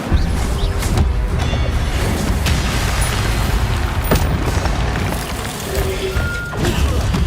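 An Incendio fire spell is cast in Hogwarts Legacy, giving a loud, sustained burst of whooshing, crackling booms and crashes that run through the whole stretch with no talking.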